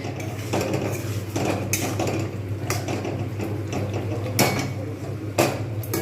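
A spoon scrapes and clanks against a metal pot while chicken biryani is stirred, giving repeated sharp knocks over a steady background hum, close and fairly loud.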